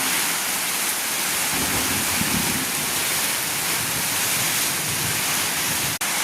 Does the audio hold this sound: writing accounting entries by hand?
no